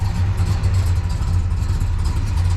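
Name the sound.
classic car engine running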